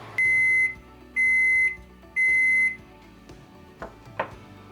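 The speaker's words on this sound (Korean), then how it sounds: "재료들이 이미 다 익었기 때문에 전자레인지에서 치즈만 녹여주면 된다." Three long, loud, steady electronic beeps from a microwave oven that has just melted cheese over a tofu and zucchini lasagna, evenly spaced, followed by a couple of faint clunks.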